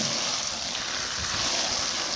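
Plain water spraying onto dry, crisp leaves gives a steady, even hiss at moderate level, continuous and unbroken, with no talking over it.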